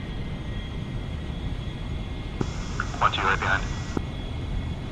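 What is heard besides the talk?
aircraft taxiing onto runway in DCS video game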